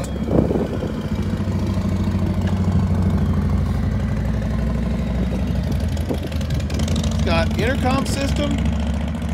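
A 2020 Harley-Davidson Ultra Limited motorcycle idles with a steady, low, rumbling throb while someone talks over it nearby.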